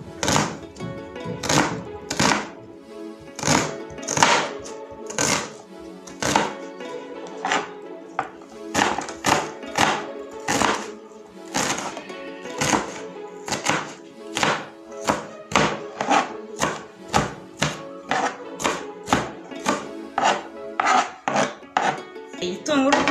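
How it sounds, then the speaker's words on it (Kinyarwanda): A knife chops red onion into small pieces on a board, giving steady, close, crisp thunks in quick runs with short pauses between, alone without talk. "Turatangira dukata ibikoresho birimo igitunguru gitukura, genda ukata duto"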